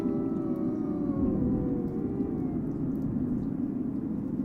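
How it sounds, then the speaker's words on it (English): Long, drawn-out wolf howls rise and fall steadily, several voices overlapping over a low background rumble, with no talking. "the howls of the dominant individuals are longer and louder"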